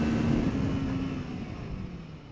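A Kawasaki Ninja 650 / Z650 motorcycle engine buzzes on track with a low drone that fades gradually and carries a faint tonal note early on.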